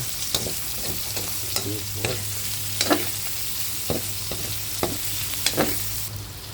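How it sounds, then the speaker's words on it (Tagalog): Garlic and onion browning in oil for string-bean adobo, a soft steady sizzle punctuated by roughly ten distinct utensil scrapes and taps against the pan as they are stirred, with no speech. "Ito, brown na natin ng konti yung ating bawang at sibuyas. Ihalo na natin siya."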